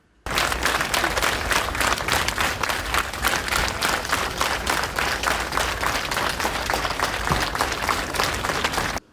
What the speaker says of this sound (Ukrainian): Тож в останню путь актора проводять оплесками.